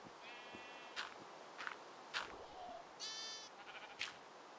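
Sheep in the Minecraft video game bleat several times in short, separate calls, a soft footstep-like patter between them, heard close and fairly quiet with no talk.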